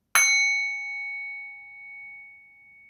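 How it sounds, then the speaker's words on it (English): A singing bowl is struck once, giving a sharp metallic strike followed by a clear, long-ringing tone that slowly fades and gently pulses over nearly three seconds, alone and close. "We're also going to do the singing bowl here real quick"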